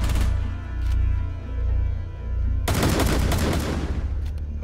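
Bursts of automatic gunfire in Rainbow Six Siege crack loud and close, with a sustained rapid volley filling the second half after a droning low rumble.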